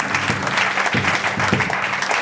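A church congregation applauds, a loud, close burst of many hands clapping together with a slightly uneven rhythm and faint voices mixed in.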